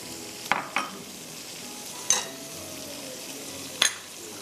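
Crushed garlic, chopped curry leaves and julienned green chillies stir-frying in a quarter cup of hot oil, a soft steady sizzle broken by a few sharp metallic scrapes and clinks of a spoon against the pan, close and without speech.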